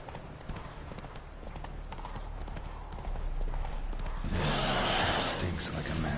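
Steady clip-clop of a horse's hooves on a long ride in The Witcher 3: Wild Hunt, continuous and close, swelling with a rush of wind or gallop noise toward the end.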